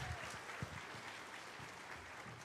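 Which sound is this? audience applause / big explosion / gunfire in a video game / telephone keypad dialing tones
audience applause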